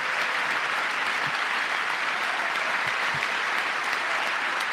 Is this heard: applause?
yes